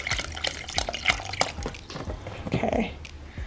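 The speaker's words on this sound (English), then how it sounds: "I have my vegetable broth, so I'm just gonna pour some in here so I can make sure I have enough liquid." Vegetable broth poured into a Crockpot Express pressure cooker while making chili mac, giving a run of close, uneven splashing and trickling liquid sounds with small knocks of the container.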